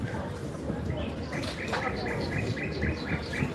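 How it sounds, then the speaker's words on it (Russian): Recorded birdsong plays from loudspeakers along a seaside promenade in Alushta in July: repeated bright chirps and tweets in a regular pattern, set against the general murmur of the outdoor crowd and street noise. "Типа птицы. На самом деле это запись."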